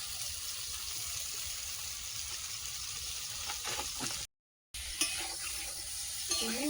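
Prawns being sautéed in a pan, a steady close hiss of frying with stirring scrapes and clinks, broken by a short gap of silence before the sizzling resumes.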